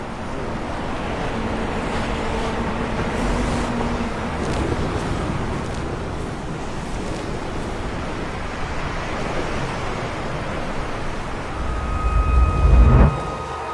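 Ocean surf rolls onto Diamond Beach in Iceland in summer, a steady wash of breaking waves mixed with gusting wind on the microphone, swelling into a louder rumbling crash near the end.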